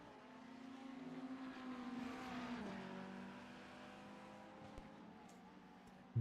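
Scuderia Ferrari race car at a Western Grinding Road Series race, a distant engine whine rising and falling in pitch as it passes at speed, with other cars droning faintly behind.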